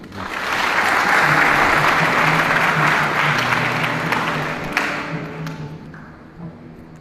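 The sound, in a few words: congregation applauding in church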